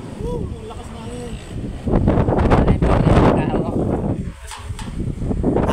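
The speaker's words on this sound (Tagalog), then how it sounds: "Ang lakas na hangin." Strong wind gusts on a boat, rising to a louder roar midway and easing again, with people talking over it.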